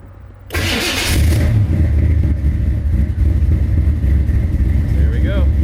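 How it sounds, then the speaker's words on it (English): A car fitted with a Holley Sniper EFI system starts on the first try with a sudden loud catch, then settles into a steady, rumbling idle close by. "Holley Sniper should start right up."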